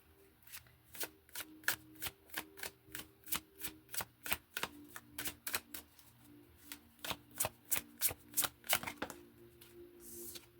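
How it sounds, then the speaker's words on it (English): Tarot cards shuffled in a steady run of crisp riffling bursts, close and fairly quiet, with a brief pause near the end before the shuffling resumes. "let's just go ahead and pull tarot on this then"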